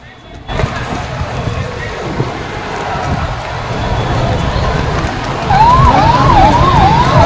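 An ambulance siren starts wailing in a rising and falling pattern in the final seconds, loud over a dense crowd roar and nearby talking at a stampede during the RCB cricket victory parade.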